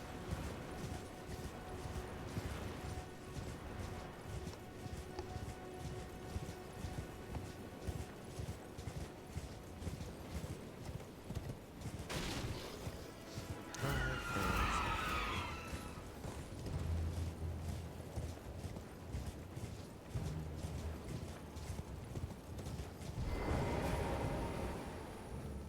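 Horse hooves clip-clop in Elden Ring, a steady walking rhythm of hoof falls with creaking tack, joined by a couple of louder mechanical bursts, all fairly quiet with no talk.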